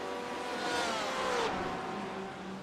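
A Porsche race car in a sim racing game roars past with a revving engine whine that rises and swells mid-clip, then fades off, over a steady background of other cars.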